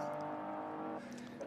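A BMW CSL and a Ford Escort touring race car at Spa roar past in a brief, loud burst of engine noise that tapers off, heard beneath a commentator's voice.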